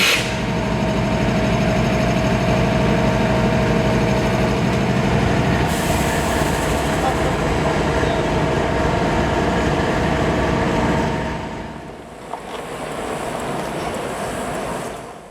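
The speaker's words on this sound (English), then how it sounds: "we're going to follow one of the many local freights which make up the Georgia Subdivision" A CSX local freight train rolls past on the Georgia Subdivision, a loud, steady rumble of railcars and wheels on track that holds for about eleven seconds before fading slightly, with a brief squeal of wheels near the end.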